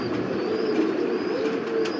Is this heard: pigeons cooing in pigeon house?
yes